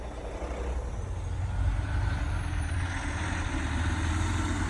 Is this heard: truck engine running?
yes